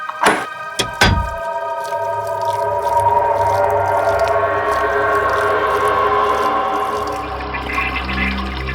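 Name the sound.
water running from a bathroom basin tap left open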